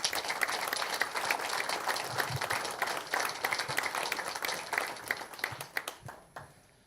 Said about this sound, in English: Let's give everybody here a round of applause.